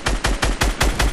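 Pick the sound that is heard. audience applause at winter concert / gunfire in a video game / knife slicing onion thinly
gunfire in a video game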